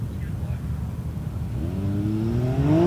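A Can-Am off-road race vehicle in an Ultra4 desert race rises from a low rumble into a climbing engine rev, growing louder as it approaches, under faint background noise.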